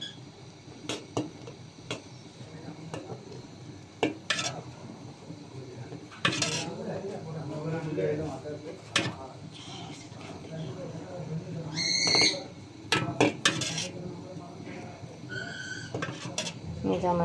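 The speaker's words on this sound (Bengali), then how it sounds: "এটা নামানোর পরে কিন্তু নাড়তে হবে, না হলে উপরে সরের মতো পড়ে যাবে কিন্তু।" A thickening milk dessert mixture is stirred in a pot, with scraping and sporadic metallic clinks of spoon on pot, while someone talks over much of it.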